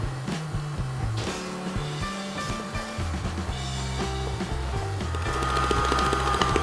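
An electric mixer beats cupcake frosting loosened with whole milk, a steady whirring drone with rhythmic knocking of the beaters in the bowl, close and continuous, growing slightly louder toward the end.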